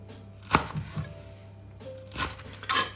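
A knife slicing food thinly on a cutting board while making pancakes, heard as a few distinct close chops spaced irregularly, with quieter scraping between them.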